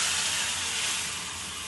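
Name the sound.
hot water added to frying spices, sizzling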